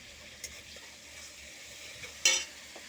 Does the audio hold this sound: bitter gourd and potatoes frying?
yes